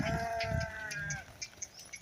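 A sheep in a herd gives a loud, wavering bleat up close, followed by quieter shuffling and small knocks.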